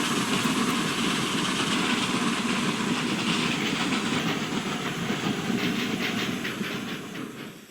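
Miniature steam locomotive Number 6 approaches New Romney, a steady rumbling hiss with clickety-clack of wheels on rail, fading slightly at the end.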